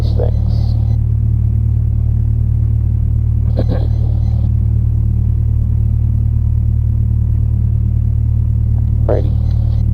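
A light aircraft engine drones loud and steady at raised throttle during a pre-flight run-up, heard from the cockpit as a constant low rumble, with brief radio or intercom voices breaking in.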